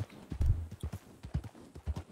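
Horse hooves clip-clop in a steady walking rhythm in a Western ranch role-play video game set around Blackwater, close and clear with no talk over them.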